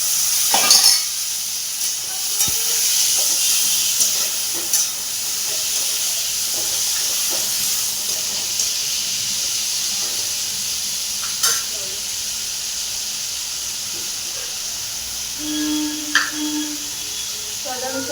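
Boiled chickpeas frying in oil with an onion, garlic and ginger masala paste, a soft continuous sizzle with occasional stirring scrapes and faint clinks, fairly quiet and steady.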